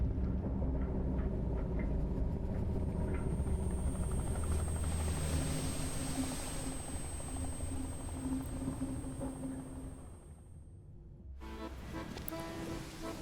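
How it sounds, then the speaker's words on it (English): A helicopter in the Dredge video game sits with its rotors already spinning. The whine and steady rumble run continuously for over ten seconds, with a dense, close, even roar that dips briefly near the end and then resumes. "Exit boards his helicopter, rotors already spinning."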